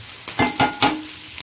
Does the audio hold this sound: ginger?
yes